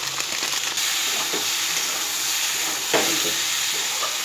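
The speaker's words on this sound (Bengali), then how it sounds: "এইবার এই মশলাগুলো দিয়ে আরেকটু করে কষিয়ে নেব" Spices sizzle as they fry in a pan for pui shak chorchori with pumpkin, potato, brinjal and ridge gourd, a loud steady hiss with a few soft stirring scrapes.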